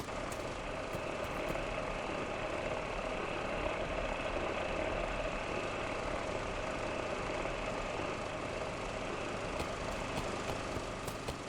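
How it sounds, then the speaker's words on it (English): A drilling machine in the Mars terraforming game Blossom runs with a continuous, steady mechanical rumble and hum, unchanging for the whole stretch, with no talk. "What are we drilling for?"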